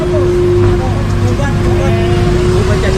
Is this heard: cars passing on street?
yes